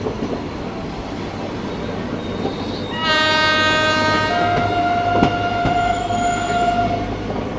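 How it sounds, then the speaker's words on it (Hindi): The Visakhapatnam Lingampalli Express passes alongside on the adjacent track, its horn sounding a sustained multi-tone blast over the steady rumble and clatter of rolling rail wheels. "एक बगल से क्रॉस हो रही है विशाखापट्टनम लिंगमपल्ली एक्सप्रेस।"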